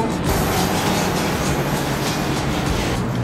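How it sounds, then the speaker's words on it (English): A train rolls past on nearby tracks beside a home, a loud continuous rumble and rattle of rail cars that stays steady throughout, with no talking. "It's the only downside to living beside the train tracks."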